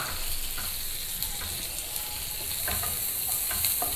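Boiled corn kernels fry in melted butter in a pan, giving a steady, soft sizzle with small crackles and occasional stirring scrapes, close and constant with no talk.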